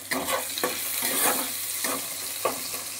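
Chopped onion fries in a pan while a spatula stirs it, loud close sizzling broken by regular scraping strokes about every half second, without any speech.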